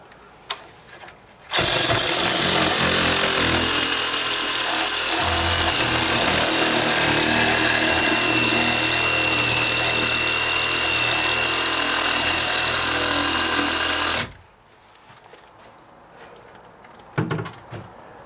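A power tool cuts through dry-rotted deck wood in one loud, continuous whining burst of about twelve seconds, bracketed by quieter handling knocks before and after.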